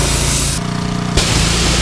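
Iron-free cleaner sprayed onto a Vorsteiner wheel on a Lamborghini, a loud hissing spray burst close up, with steady spray noise on either side.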